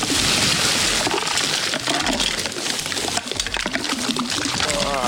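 Pool salt is poured from a bag into the water of a backyard pool, giving a continuous, close, gritty pouring and splashing rush.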